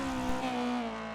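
A 1970s rally car in the Oksala stage of a racing game, its engine roaring loud and close in a brief sustained pass with a steady droning tone.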